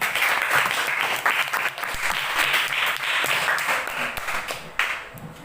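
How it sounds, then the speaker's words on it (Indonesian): A classroom of students in an Islamic religious education lesson applauds a group, producing loud, sustained and somewhat uneven clapping with individual claps standing out, easing slightly toward the end. "tepuk tangan untuk kelompok 3"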